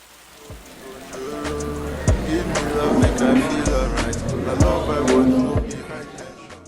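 Steady rain patters on a surface, with scattered sharp drops and splashes and a low rumbling hum underneath.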